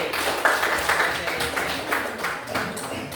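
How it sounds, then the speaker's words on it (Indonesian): A classroom of students clapping for a classmate after a presentation, a brief scattered patter of hand claps with some pulses standing out, fairly faint and mixed with a little talk. "Tepuk tangan untuk Habib."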